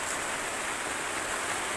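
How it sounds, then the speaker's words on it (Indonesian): Rain beginning to fall at night on Mount Slamet, at a hikers' camp at post 5 with tents, a steady even hiss of drops with no talk. "Jam setengah 8 malam, hujan mulai turun di pos 5."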